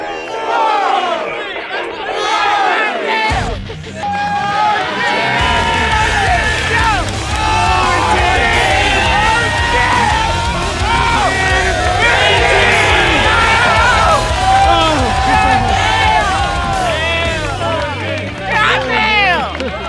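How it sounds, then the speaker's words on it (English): A large, excited crowd roars and yells continuously at a pull-up contest at a skate event, a dense wall of cheering and shouting that swells and stays loud throughout. "Get Japan actually was doing like a crazy like pull-up contest, which became surprisingly hype when the crowd really got into it."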